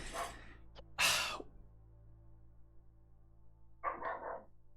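A dog gives a few short, sharp barks, close by, separated by stretches of quiet room hum.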